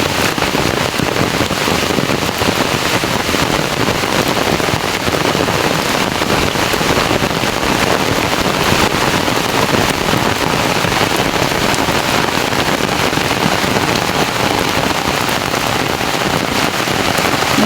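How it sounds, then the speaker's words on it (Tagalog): Steady rain pours down on a farm field, a dense, even hiss of drops across the whole stretch with no letup and no voices. "maulan dito sa bukid"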